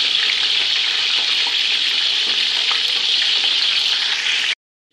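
Potatoes fry in oil for aloo dum biryani, a loud, dense, steady sizzle that stops abruptly near the end.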